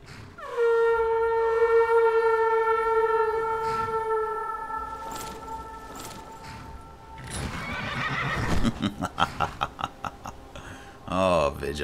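A horse in the Skyrim video game whinnies loudly with a long descending neigh, then hooves clop in a quick rhythmic run toward the end.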